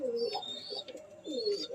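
Pigeon cooing from a bird shown among a flock of homing pigeons in Risra, Howrah: two close, soft rolling coos with a short gap between them, with no talking.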